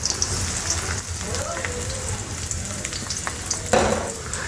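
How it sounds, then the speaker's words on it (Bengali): Chopped onion and green chili frying in hot oil in a pot, a steady close sizzle and crackle like light rain, with a few clinks of a stirring utensil against the pan. "এখন হচ্ছে দিয়ে দেবো পেঁয়াজ কুচি আর হচ্ছে কাঁচামরিচ কুচি।"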